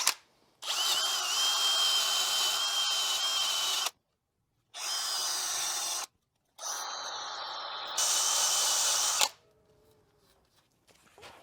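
A power drill with a cleaning attachment scours the faces of a front brake caliper bracket on a Renault Scenic 3, whining in several sustained bursts separated by short pauses, the pitch shifting slightly on the final run before it winds down.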